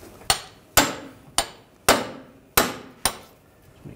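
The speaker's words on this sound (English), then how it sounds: "Using a pickle fork, I'm gonna separate the ball joint from the knuckle." A pickle fork is hammered to separate the front lower ball joint from the steering knuckle on a 2009-2017 Volkswagen Tiguan. Six sharp, ringing metal blows land close and loud at a steady pace, with no talking.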